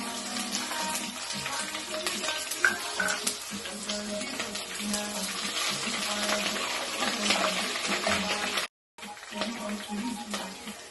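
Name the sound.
onion and crushed garlic frying in a pan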